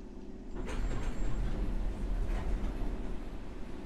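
A London Underground train in a video game rumbles steadily with a deep engine drone and a faint high whine, loud and close throughout.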